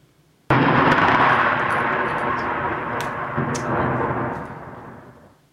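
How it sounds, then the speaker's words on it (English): A thunder sound effect opens a lightning round on a talk show: a sudden loud crack followed by a long, deep rumbling roll that slowly fades over several seconds, with no voices. "wait for the thunder sound effect for the lightning round"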